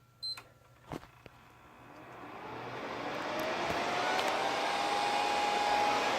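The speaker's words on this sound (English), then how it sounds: "you guys can also hear the 12-volt fan mod" A few clicks and knocks, then a 12-volt cooling fan inside a PS3 console whirs up and settles into a steady, rising hum with a faint high whine.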